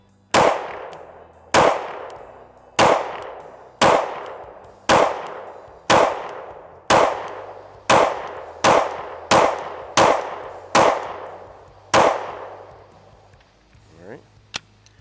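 Eleven sharp, evenly spaced gunshots from a Shadow Systems CR920P micro compact pistol, each a crisp crack with a short ringing tail, fired alone at a steady pace, followed by a faint click.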